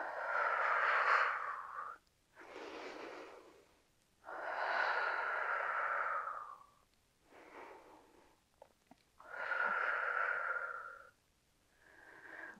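Slow, audible breaths during a prenatal Pilates workout with light weights, long airy exhales and inhales alternating in an even rhythm, close and fairly quiet, with no talking.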